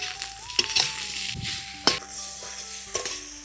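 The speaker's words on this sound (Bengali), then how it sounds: "সবজিগুলো ভাজা হয়ে গেছে" Onion, beans, carrot, green chilli and capsicum sizzle in a pan, a soft continuous frying hiss broken by a few sharp spatula scrapes and clinks, close by with no talk.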